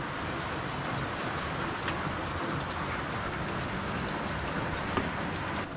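Steady rain pours down in Pahalgam, Kashmir, a continuous even hiss of drops soaking roads and surfaces, moderately loud and unbroken, with no voices.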